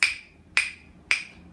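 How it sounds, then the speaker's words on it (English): Rhythm sticks struck together in a music class, three crisp, bright wooden clicks evenly spaced about half a second apart, each ringing briefly before fading, with no talk. "Clap, clap, clap with my sticks"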